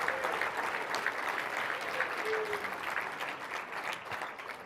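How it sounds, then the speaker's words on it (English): An audience at a charity breakfast event at a resort applauds steadily, a dense, even patter of many hands clapping that holds at moderate level and tapers slightly near the end, with some faint voices beneath. "Give these two a round of applause and the package here."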